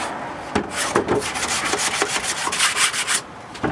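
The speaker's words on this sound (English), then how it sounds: "sand them down, just gently, just to get rid of dirt off it." Hand sanding of pallet wood slats for seedling trays, a close, steady rasping scrub made of quick back-and-forth strokes that continue throughout without any talk.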